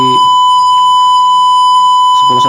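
Steady electronic temperature alarm from a simulated circuit, a continuous high beeping tone with harmonics held for about two seconds, loud and alone, with brief low hum at the start and end.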